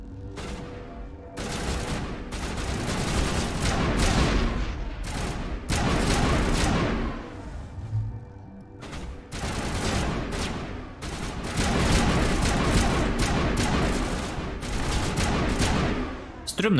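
Rapid weapon fire from the video game Mass Effect, dense bursts of shots in long loud stretches with brief pauses, continuous over the whole stretch.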